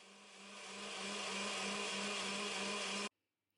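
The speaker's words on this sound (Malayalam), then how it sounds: "മൊത്തത്തിൽ ചേർത്ത് കൊടുത്തിട്ട് നന്നായിട്ടൊന്ന് അരച്ചെടുക്കുകയാണ് വേണ്ടത്. 1 മിനിറ്റെങ്കിലും നന്നായിട്ടൊന്ന് അടിച്ചെടുക്കണം കേട്ടോ." Electric blender grinding carrot and eggs into batter for carrot pola, a steady whirring drone that builds up over the first second, holds loud and even, then cuts off abruptly near the end.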